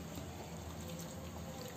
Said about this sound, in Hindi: तो 1 कप पानी ली मैं यहाँ।